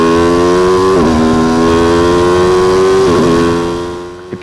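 An Aprilia RSV4 1100 sport motorcycle engine holds a loud, steady high rev, dipping briefly twice as the throttle blips, then fading off at the end.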